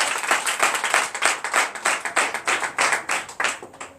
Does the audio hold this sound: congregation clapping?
yes